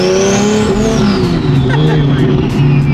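A turbocharged Nissan 370Z engine roars steadily with a rising turbo whine and whistle, loud and close, with people talking over it.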